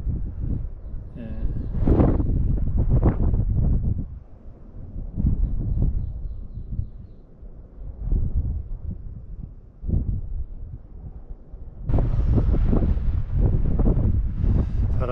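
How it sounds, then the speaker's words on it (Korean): Strong wind buffets the microphone on the Ulsanbawi summit in Seoraksan, a steady roaring rumble with gusts swelling louder near the end, while a person talks intermittently. "바람이 무지하게 세게 붑니다"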